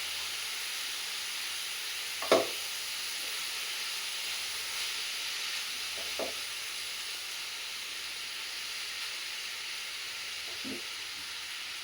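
Capsicum fries in a pan in a home kitchen with a steady, soft hiss and sizzle. A few faint clinks of a utensil are spaced apart.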